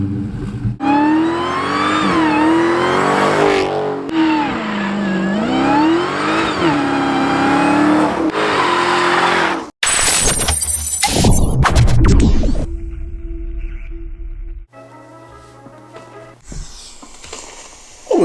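A 2020 Dodge SRT Daytona Hellcat engine revs hard and repeatedly, rising and falling whine up close, then abrupt bursts and throttle blips with gaps of quiet idle near the end.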